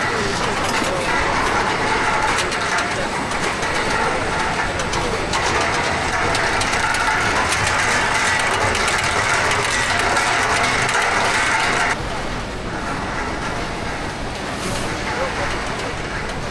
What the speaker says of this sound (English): The feeding machine will push the flour into the tank.